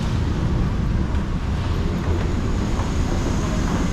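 Steady low rumble of an underground MRT metro train at a Bangkok station, a continuous loud drone of rolling rail noise with no pauses throughout.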